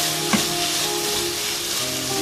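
Boiled lentils sizzle and fry steadily in a pan with a soft stirring bump early on, a close, even crackle running the whole time with no voices.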